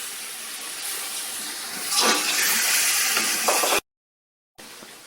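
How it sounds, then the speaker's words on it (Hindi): Water splashes and hisses steadily into a pot for a few seconds, close by, building slightly before cutting off abruptly. "इस तरह थोड़ा सा पानी शामिल कर लें, आधा कप।"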